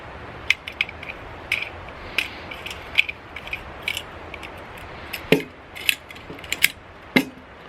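Metal gas canister being threaded onto a Chenbo backpacking stove, giving a run of small ratcheting clicks and scraping metallic ticks, close and fairly quiet, with a few sharper clacks toward the end.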